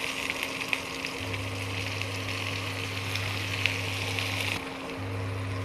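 Onions, green chillies and ginger-garlic paste frying in oil in a kadai. The sizzle is soft and steady, and a low electrical hum sits underneath it.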